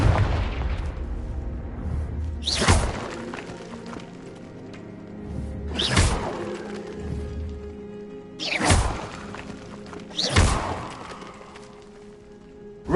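In Hogwarts Legacy, Confringo fire spells detonate in four loud, booming blasts spaced a couple of seconds apart, each with a sharp crack and a rumbling tail, over low ambient game sound.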